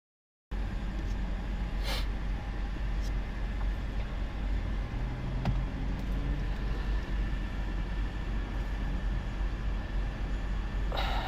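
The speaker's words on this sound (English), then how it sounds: "with the pleasant sound of this car beside" Car passing nearby beside a speaker outdoors, a steady low engine and road rumble that swells gently and fades under constant background noise, with no voices.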